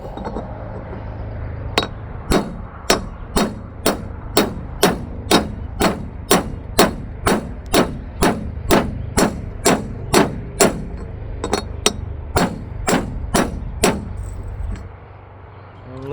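Sharp, evenly spaced metallic strikes of a hammer on a socket, about twenty-two in a row at a steady quick rhythm, seating a trailer wheel bearing outdoors, then stopping.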